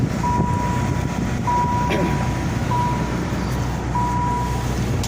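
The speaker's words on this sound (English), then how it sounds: "As you can hear, the chime works just fine." A 1989 Plymouth Voyager Turbo's warning chime repeats four times, steady and evenly spaced, over a constant background hum, moderately loud and clear.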